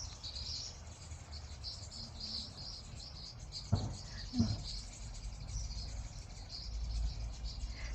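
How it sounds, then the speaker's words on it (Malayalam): Birds chirp and twitter faintly and continuously in a garden of potted plants, mixed with insect-like trilling and a couple of brief knocks in the middle, with no one talking. "ഇവിടെയൊക്കെ നിറയെ കിളികളാണ് കേട്ടോ"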